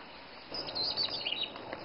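Faint, scattered bird chirps and tweets over a soft outdoor background, a few high calls clustered in the middle of the clip.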